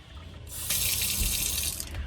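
A tap inside a van suddenly gushes water after a short quiet start, a steady bright splashing stream close by that runs on without stopping.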